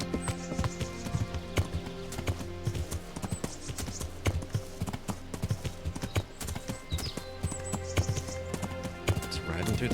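Horse hooves clip-clop at a steady riding rhythm along a woodland path in Kingdom Come: Deliverance, with occasional birdsong and faint game ambience behind the footfalls.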